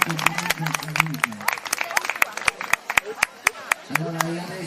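Scattered crowd applause rings out at an outdoor horse race in a Sardinian village, sharp individual claps spread unevenly across the moment while someone talks over a loudspeaker in the background.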